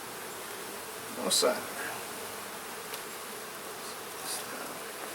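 Honeybees buzz steadily around a hive set against a fence, a soft continuous drone close by, with one brief louder pass near a person who speaks quietly.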